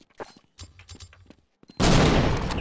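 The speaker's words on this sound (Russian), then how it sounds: "Вот такой у нас взрыв." A bomb goes off in Counter-Strike 1.6. After a stretch of quieter clicks and thuds, a loud, broad roaring blast starts suddenly and carries on to the end.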